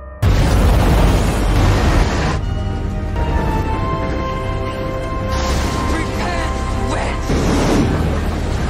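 A loud, sustained roar of a train crashing and exploding into a ravine, crashing and rumbling debris with heavy bursts at the start and again later, dense and close throughout.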